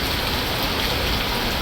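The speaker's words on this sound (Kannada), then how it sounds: "ಸ್ವಲ್ಪ ಡೌನ್ ಆಗಿದೆ, ಮಳೆ ಕಡಿಮೆ ಆಗಿದೆ" Heavy rain in Bengaluru at an underpass, a dense unbroken roar of downpour on surfaces, loud and close with no talk.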